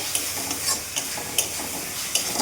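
Spice masala for a papda fish curry sizzles in a pan while a spoon stirs it, with steady close frying hiss and a regular scrape of stirring strokes.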